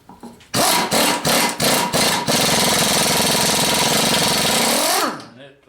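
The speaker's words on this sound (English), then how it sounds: "I started back using my air impact because the batteries on those Craftsman just don't last" A pneumatic air impact wrench works a bolt on gas tank brackets during a 1985 Chevy K10 restoration. Several sharp hammering bursts give way to a continuous loud rattling run and a winding-down whine, with someone talking over it.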